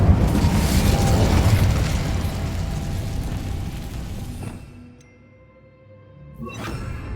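A fire spell explosion from the Hogwarts Legacy video game: a loud, sustained rumbling roar for several seconds that fades out, then a brief sharp burst near the end, with no talking.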